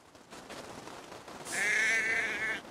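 A sheep in the video game Assassin's Creed Valhalla gives one drawn-out, wavering bleat, clear and fairly close, rising out of a quiet, low background hum.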